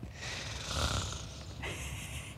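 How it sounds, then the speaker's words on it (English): Snoring from a person dozing on a morning television show set, with a couple of rough, breathy snorts rising and falling over about two seconds, fairly close and with no talking over it. "You're snoring"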